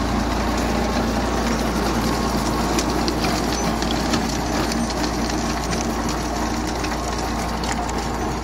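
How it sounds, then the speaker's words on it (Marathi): A tractor ploughs through a standing crop field in Waki Budruk, its heavy engine droning low and steady while stalks crunch and splinter underneath, continuous and fairly close. "वाकी बुद्रुक येथील शेतकऱ्यांनी उभ्या शेतात ट्रॅक्टर घातल्याचं चित्र आज पाहायला मिळालं।"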